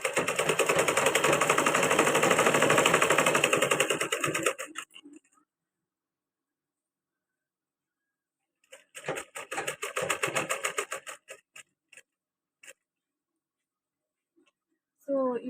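A sewing machine stitches a baby's balloon frock in fast rattling bursts, one long run at the start and a shorter run later, with quiet pauses in between.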